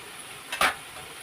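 Tomatoes frying in oil in a pan: a faint, steady sizzle with one brief, louder scrape of stirring near the middle.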